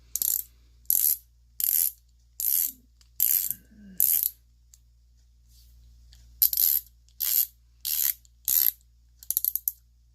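A Pittsburgh 21-piece pass-through ratchet is compared with a Stanley 16-piece pass-through ratchet, each giving bursts of rapid, sharp metallic clicking in repeated strokes. Quiet pauses separate the bursts, and no voice is heard.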